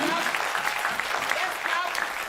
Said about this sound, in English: Please, let's clap him continuously.